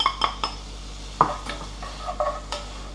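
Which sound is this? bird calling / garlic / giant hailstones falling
garlic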